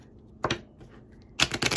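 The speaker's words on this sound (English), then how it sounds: "So let's give these a shuffle." Quick riffling bursts of playing cards being shuffled, two short flurries of flapping clicks close by, with a quiet pause between.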